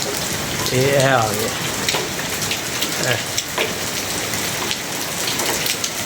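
Heavy rain pours down steadily outdoors near a pigeon loft, a dense, close, continuous hiss that a man's brief remark rises over early on.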